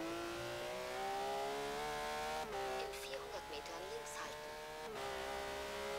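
A car engine in Forza Horizon 3 on a race circuit revs hard at a steady high pitch, bouncing off the rev limiter with sharp gear-change dips and squealing tyres, loud and close, with someone talking over it.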